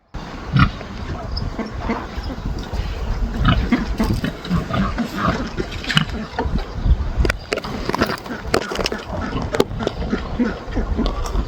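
Large pigs being fed treats grunt and snort close by, a continuous rough chorus of low snuffling and chewing noises with occasional louder squeals.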